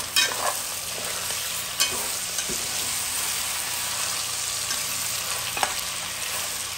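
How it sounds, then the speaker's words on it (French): Onions frying in a pan for lamb chop massalé, a steady close sizzle and hiss with occasional utensil knocks and stirring, without speech. "Je mets les oignons là"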